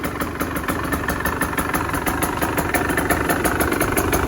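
A 2023 KTM 125 SX two-stroke dirt bike with an FMF exhaust pipe idles steadily and close by, a quiet, even engine burble that holds with no revving and no voices.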